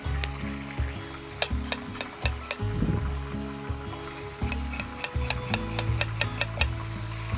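Food for ginataang tilapia with pechay cooks in a pan with a low, steady sizzle, punctuated by sharp taps and scrapes of a utensil against the pan over a faint background hum.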